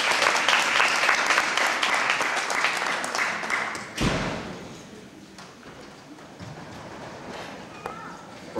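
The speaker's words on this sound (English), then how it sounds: "Let's give these exhibitors a round of applause." An audience at a steer show claps steadily, then the applause tapers off after a thud, leaving quieter room noise with scattered sounds and a voice.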